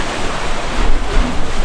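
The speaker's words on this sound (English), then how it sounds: "The water's rushing up into there." Rough sea surf surging up into a rocky formation at Mullet Bay, St Maarten, a steady close roar of churning water with wind buffeting the microphone.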